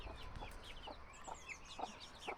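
Soft, rapid chirps and peeps from four chicks repeat over a faint background hiss, fairly quiet and close.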